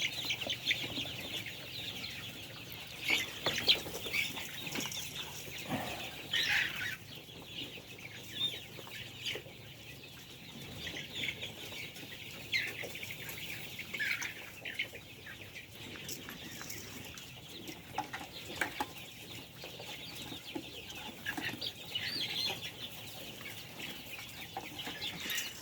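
Young roosters and hens on a farm in the morning keep up a continuous clucking and chattering background, with brief squeaky crow attempts and occasional wing flaps scattered throughout.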